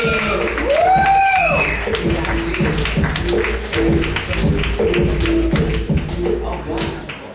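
A comedy club audience applauds a comedian, a steady wash of clapping and crowd noise that lasts several seconds, with tonal music or voice sounds rising at the start.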